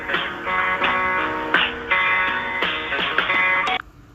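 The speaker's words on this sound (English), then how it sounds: "What you're hearing is the hold music that plays, sometimes for hours, when you call the Social Security Administration" Tinny, compressed telephone hold music from the Social Security Administration plays a looping electronic melody on its own, then cuts off abruptly at the end.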